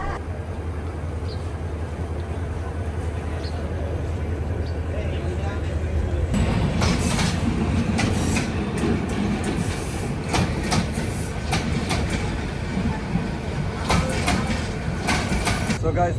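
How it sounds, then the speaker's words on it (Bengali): A train pulls out of Biman Bandar railway station on a journey toward Jamalpur. A low steady rumble swells partway through into loud, close rolling clatter and rattling carriage noise, with faint voices in the background. "বিমানবন্দর রেল স্টেশন থেকে ট্রেন আবার ছাড়লো"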